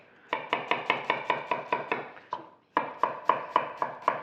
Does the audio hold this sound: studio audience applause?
no